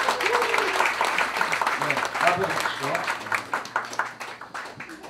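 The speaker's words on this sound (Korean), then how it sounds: "로얄 스타일 박수로 모십니다" An audience at a year-end show claps together in a burst of applause that gradually thins out, while a host's voice carries over it.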